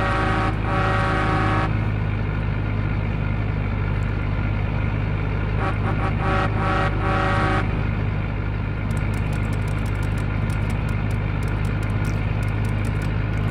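Farm vehicle in Farming Simulator 22 rolling slowly at walking pace, 4 to 7 km/h, a loud steady low engine drone with bursts of clattering mechanical noise and later fine ticking, no talk.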